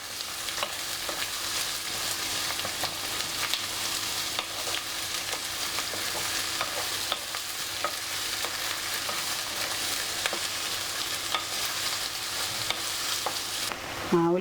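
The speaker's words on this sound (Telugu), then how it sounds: "ఉల్లిపాయలు వేగినాయండి." Onions fry in a pan to brown for a mutton keema and drumstick curry, a constant close sizzle broken by scattered crackles and stirring scrapes, with no one talking.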